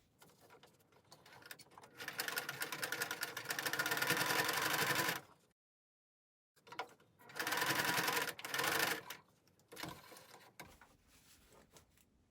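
A sewing machine stitches a face mask seam in two loud, rapid bursts of whirring needle strokes separated by a pause, then quieter handling sounds.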